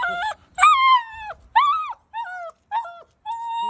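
A dog whines and howls in a string of high, drawn-out cries with short pauses between them, close and fairly loud.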